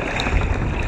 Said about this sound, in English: I'm going to paddle pretty much through them.